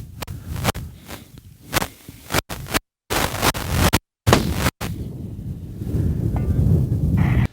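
Gusty wind at an outdoor long-range shooting site in Erzurum, Turkey, buffets a microphone, with rough low rumbling bursts and a few abrupt dropouts, continuing as steady blustery noise.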